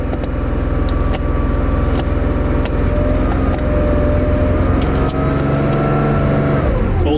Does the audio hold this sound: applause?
no